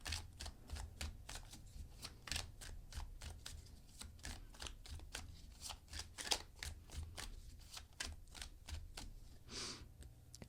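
Tarot cards shuffled and drawn by hand, a long run of quick papery riffles and soft snaps, close and quiet, irregular rhythm with brief gaps.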